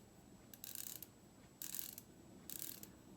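A twist-up makeup stick is cranked in three short bursts of fine ratcheting clicks, close and quiet, with brief pauses between turns.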